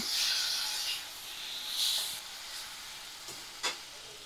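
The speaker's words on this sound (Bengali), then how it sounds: "তো মশলা ভালো করে এবারে কষিয়ে নিতে হবে।" Spices and a large chopped tomato frying in oil for a mutton and potato curry, a soft steady sizzle and hiss with a few brief louder spits, quiet and close.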